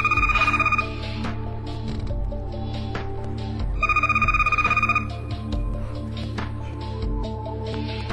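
A telephone rings in short electronic trills, two bursts a few seconds apart over a busy musical background, with no one speaking.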